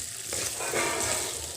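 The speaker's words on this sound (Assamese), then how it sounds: "আলুখিনি প্ৰায় আধা মান মোৰ ভাজি হৈ গৈছে" Potatoes frying with mint in a pan give a steady, close hiss and sizzle, with a brief stirring scrape, and no voices.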